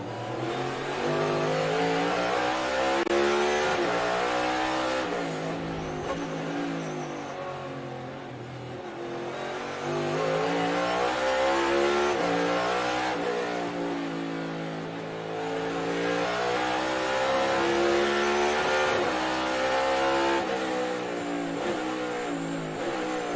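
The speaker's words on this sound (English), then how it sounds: "Now I'm going to be quiet because the onboard's so loud." Onboard engine of a NASCAR race car at Road America during the 2022 Kwik Trip 250, loud and close throughout, rising and falling through repeated gear changes with a rough, harmonic-rich roar and no talk over it.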